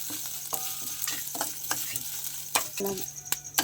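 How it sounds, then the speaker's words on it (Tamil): Okra and grated coconut sauté in a pan with a continuous sizzle, broken by repeated scraping stirs and light clinks of the spoon. "எல்லாம் சேர்த்து ஒரு மூணு நிமிஷம் நாலு நிமிஷம் வதக்கிட்டேங்க"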